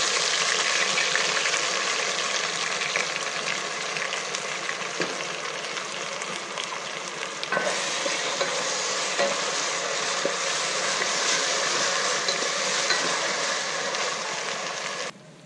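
Ginger, garlic, onion and chili paste frying among browned onions in a pan for Dindigul mutton biryani: a steady, loud, close sizzle with scraping stirs, continuous for the whole stretch.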